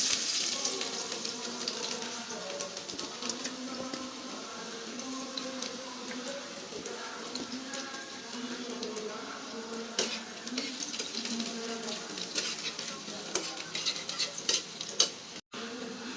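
Chopped garlic sizzles in hot oil in a wok, a steady close frying hiss broken by scraping stirs and small clinks from the pan, with a brief dropout near the end.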